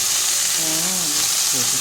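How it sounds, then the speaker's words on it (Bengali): Cauliflower frying in mustard oil gives a loud, steady hiss of sizzling throughout, and faint voice-like tones sound briefly beneath it. "এবারে এই তেলের মধ্যে দিয়ে দেবো ফুলকপিগুলো। ফুলকপিগুলো আবার একটু ভেজে নিতে হবে।"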